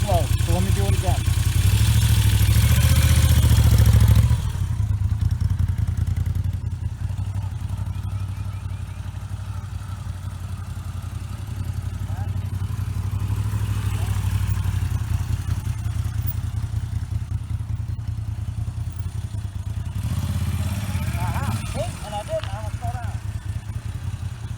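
A Moto Guzzi V7 motorcycle engine rumbles low and steady during slow cone weaving, swelling briefly under throttle and settling back to a near idle, with someone talking over it.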